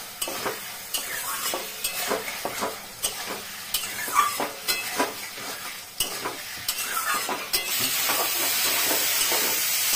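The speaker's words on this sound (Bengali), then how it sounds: "মশলাটা প্রায় কষানো হয়ে গেছে, আর একটু কষিয়ে তারপরে ঝোল দেব।" Spice paste for a foli fish curry frying in oil over a low flame, with rhythmic spatula scrapes and stirs over a crackling sizzle that swells into a louder, steadier hiss near the end.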